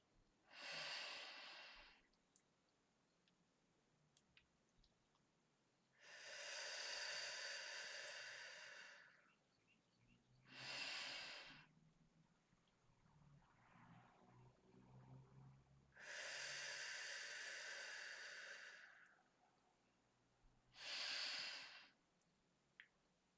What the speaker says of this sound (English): I was just doing my breathing practice with cacao.